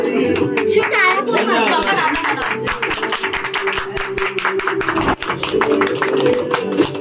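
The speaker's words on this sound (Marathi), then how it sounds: "अरे टाळ्या तर वाजवा यार." Guests at a 25th wedding anniversary celebration clap their hands in a steady patter of quick claps, mixed with lively chatter and voices talking over it throughout.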